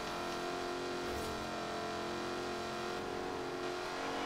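A 2015 Lexus RC F race car engine in Forza Horizon 4 holds a steady, loud drone throughout, with mid-range engine tones running continuously and no voice over it.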